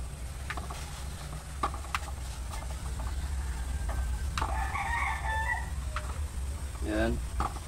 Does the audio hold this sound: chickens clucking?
yes